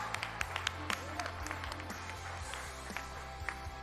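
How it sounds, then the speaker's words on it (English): Scattered claps from a small audience at an afternoon plenary awards session greet an award recipient, sparse and fairly faint over a steady low hum. "Let's clap hands for Zetu"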